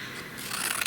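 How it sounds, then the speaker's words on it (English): Scissors slice through card stock while a birthday card is made, a steady close rasping cut that grows slightly louder toward the end, with no talking. "But I'm going to cut this off at this point."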